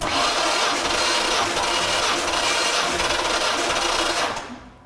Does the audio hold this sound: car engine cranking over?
yes